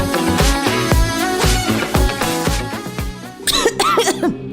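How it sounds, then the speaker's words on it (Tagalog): Repeated harsh coughs, several in quick succession, close and loud, followed by strained throat sounds. "Ubo, plemang nakabara,"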